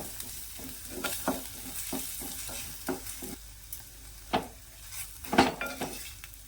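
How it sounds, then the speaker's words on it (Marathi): Washed dried prawns are stirred into hot oil with spices, Satara style, with rhythmic scraping and clinking of a spoon against the pan over a low background sizzle, heard up close. "सोडं होतं ना धुतलेलं ते घालून घ्यायचं तेलावच परतून घ्यायचं"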